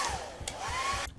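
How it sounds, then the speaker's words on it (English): Hair dryer blowing in a video game, a steady continuous whoosh with a whining tone, fairly loud and alone, cutting off near the end. "get the hair dryer on him"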